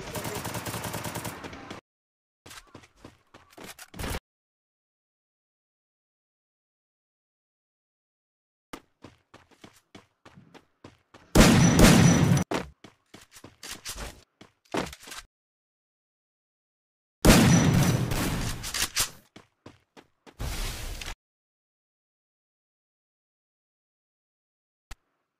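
Bursts of automatic gunfire in Garena Free Fire, several loud rapid volleys separated by silence, with scattered single shots between them and no talking.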